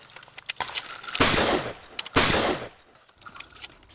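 Shotgun fired with a true cylinder choke at pigeons, giving loud close blasts: a few sharp shots, then two heavy booming reports with long rolling decay.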